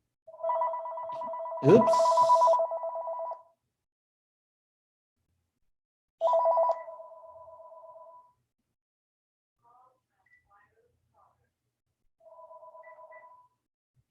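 A telephone rings in bursts of a steady electronic bell tone, one long ring followed by shorter repeats with gaps between them, alongside a brief spoken word.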